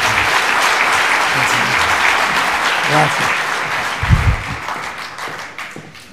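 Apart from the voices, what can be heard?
audience applause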